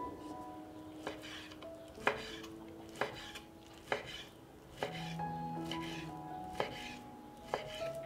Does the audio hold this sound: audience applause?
no